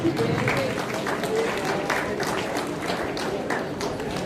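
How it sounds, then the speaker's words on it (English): At an investiture ceremony, an audience applauds cadets receiving their badges with steady, dense clapping from a crowd in a large hall. The applause continues throughout without a break, and voices murmur beneath it. "Round of applause for them, please."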